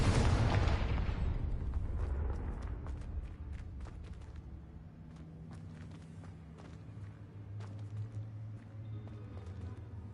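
A Confringo explosion spell goes off in a video game: a loud, close blast with a booming low rumble at the start that fades into a long rolling tail, with scattered crackles and pops continuing underneath.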